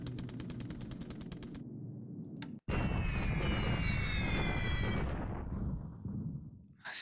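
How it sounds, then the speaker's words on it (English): Bombing in the War in the Pacific video game: a rapid machine-gun-like rattle, then a sharp crack and a long, loud roaring explosion with whistling tones that slowly fades out. "This bombing is so ineffective."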